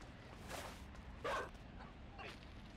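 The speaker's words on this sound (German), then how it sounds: "Oh, da kommt der Köter." A dog barking in the game Inside, three short yipping barks spaced apart at a moderate distance, fairly faint over a low background.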